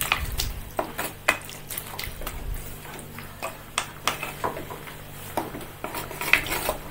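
Country chicken fry stirred in a metal pan, irregular sharp clinks and scrapes of a ladle against the pan over a low background hum, no talking.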